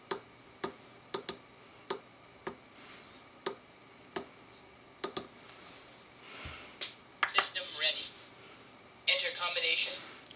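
A Betty v3.1 talking paintball prop ticks its countdown clock in sharp, evenly spaced clicks, then a person talks over the later ticks.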